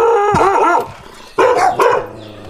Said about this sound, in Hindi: ये रास्ते में कुछ डॉग्स इस वक्त हमें नज़र आए हैं जो कि गधों को जो है वो तंग कर रहे थे